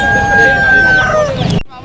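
A rooster crows in a long drawn-out call, up close, at a bird market in Karachi, with crowd murmur and chatter in the background.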